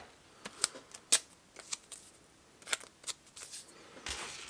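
Sticky craft tape is pulled and peeled against bare skin on an arm, producing scattered sharp close crackles and ticks, then a short rasping rip near the end.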